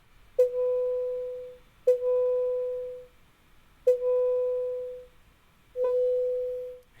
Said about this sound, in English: a short bleep being echoed by a long bleep and happening once every so often